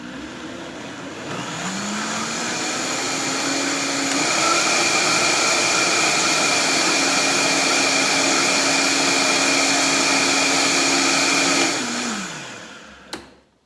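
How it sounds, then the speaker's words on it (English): Blender pureeing a vegan mac and cheese sauce, loud and close: the motor spins up, holds a steady high whirring roar for about ten seconds, then winds down and stops with a small clunk, no talk. "And so I'm going to puree that again."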